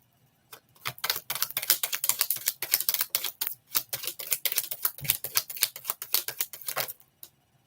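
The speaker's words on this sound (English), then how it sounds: "Let me shuffle this out." Tarot cards being shuffled by hand in a rapid, dense run of crisp riffling snaps and flutters, close and fairly loud, with brief pauses near the middle and end and no talking.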